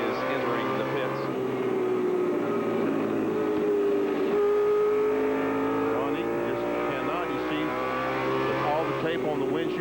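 A NASCAR Southwest Tour race car from 1996 rumbles slowly down the front straightaway toward the pits, its engine a steady, loud drone with shifting harmonics, while a commentator talks over it.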